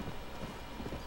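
Horse hooves clip-clop in the Red Dead Redemption video game, a quick, soft run of hoofbeats under a noisy, dense backdrop for about a second.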